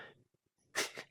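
A single sneeze bursts out close to the mic after a quiet pause, loud and brief with a short trailing second puff, following faint breathy noises.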